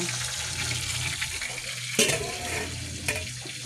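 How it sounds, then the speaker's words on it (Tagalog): Food for a home-cooked dish fries in a pan, a steady sizzle with occasional clinks and stirring knocks, fairly close and moderate in level. "Saka, iprito pa."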